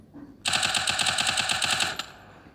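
Automatic gunfire in a battle-royale-style video game bursts out as one loud, rapid rattling volley lasting about one and a half seconds, then stops abruptly.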